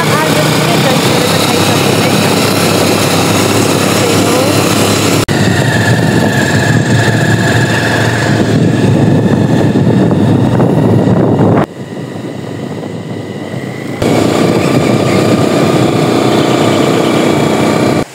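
Motorcycle engine droning steadily while riding on a road trip, loud and close, with heavy wind buffeting and a brief dip in level partway through.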